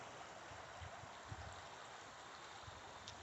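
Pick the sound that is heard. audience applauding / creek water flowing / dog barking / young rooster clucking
creek water flowing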